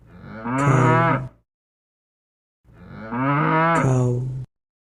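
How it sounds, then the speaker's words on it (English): A cow moos twice, loud and close, each long low call lasting over a second with a clear pause between, alone with no other sound. "cow, cow,"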